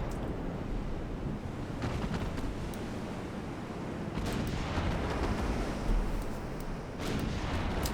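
Dense, rumbling naval gunfire from battleship guns in the game Ultimate Admiral Dreadnoughts forms a continuous roar, with heavier booms punching through the steady wash of sound at intervals.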